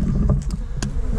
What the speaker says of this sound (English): as usual, there's bees everywhere